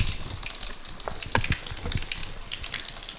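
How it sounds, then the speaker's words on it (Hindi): Water pours continuously from a temple spout in a steady gushing, splashing flow with faint irregular knocks mixed in, close and moderately loud with no talking. "इनके मुंह से कंटिन्यू 24 आवर पानी निकलता रहता है"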